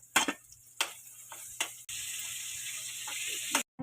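Chopped onion hits hot oil in a home kitchen pan and breaks into a steady, loud hiss of sizzling after a few sharp clatters of pan and utensil, then cuts off abruptly near the end.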